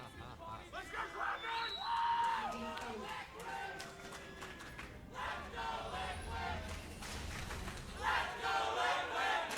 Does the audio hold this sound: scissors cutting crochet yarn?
no